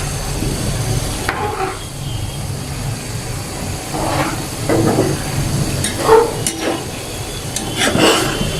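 Boal fish sautéing in a pan before the broth goes in, a continuous close hiss and sizzle with intermittent clatters and spatula scrapes, no voices.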